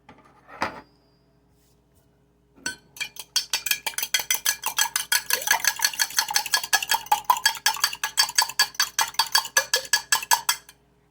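Eggs with salt and pepper being mixed in a bowl: after a couple of isolated knocks, rapid rhythmic tapping and scraping of a utensil against the bowl runs steadily, fairly close and clear.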